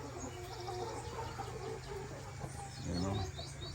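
Chickens on a farm cluck softly in a quiet outdoor scene, with a louder burst of clucking near the end over faint background noise.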